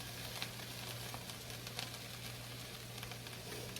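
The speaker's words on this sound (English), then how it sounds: "For sauteing the Brussels sprouts, you'll want to turn the heat up to a medium-high heat to get the fast cooking saute action." Brussels sprouts sautéing over medium-high heat in a pan, with bacon in the dish, give off a steady, soft sizzle with faint crackles. It continues evenly throughout, quiet and close, with no talking.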